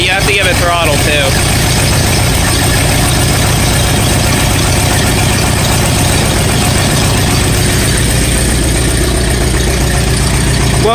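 An antique farm tractor engine idles loud and close just after its first start-up following a complete rewiring, a continuous, even chugging rumble with voices speaking over it.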